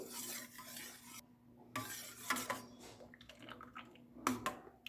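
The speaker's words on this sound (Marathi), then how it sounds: "हे ज्यूस आपण मिक्स करून घेऊ" A spoon stirs black grape juice blended with other juice, giving soft liquid swishing with a few sharp clinks against the vessel, close and fairly quiet, with no voices.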